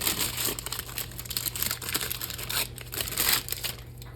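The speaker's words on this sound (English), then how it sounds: "And I'm going to peel off our paper" Baking paper peeled off the base of a freshly baked, hot no-knead bread loaf, giving continuous close crinkling and crackling rustles over a steady low hum, with no talk.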